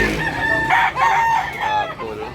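A large rooster at a Tabunok, Cebu poultry market crows loudly and close by in a drawn-out call with a few breaks. Constant crowd murmur sits beneath it.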